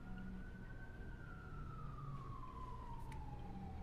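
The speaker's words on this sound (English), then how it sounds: "I heard a siren." A faint siren in the Alpha Protocol video game makes a single slow wailing sweep that rises slightly and then falls, sitting under a steady background hum with no speech.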